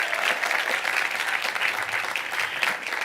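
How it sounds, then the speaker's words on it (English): A commencement crowd at UCLA claps in a steady, dense round of applause, bright and continuous for several seconds without voices standing out. "So I think you should give them a second round of applause for all of their help"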